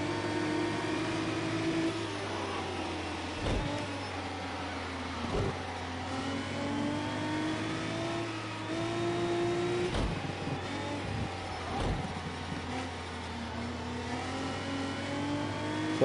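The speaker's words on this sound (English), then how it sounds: "It's a lovely car, this Megane." A Renault Megane's engine in the racing game Project Cars 2 drones steadily with rising and falling pitch, shifting gears every couple of seconds, a constant loud in-car engine note with no voices.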